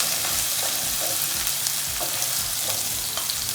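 Chopped garlic and onions sauté in hot oil in a pan, a steady close sizzle with occasional stirring scrapes running throughout.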